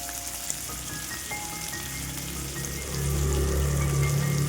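Onions with green chillies and dried red chillies sizzle and fry in hot oil, a steady close crackle that swells louder near the end, with no talking.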